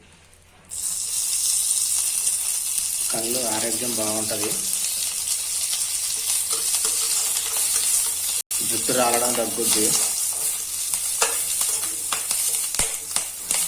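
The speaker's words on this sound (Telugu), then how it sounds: "కొద్దిగా నూనె వేసుకొని ఫస్ట్ మునగాకు వేయించుతున్నారు" Moringa leaves fry in a little oil in a pan, a loud, steady sizzle with stirring that starts abruptly and continues throughout while someone talks over it.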